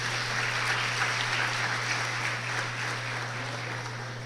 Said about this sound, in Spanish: Un fuerte aplauso para los hermanos.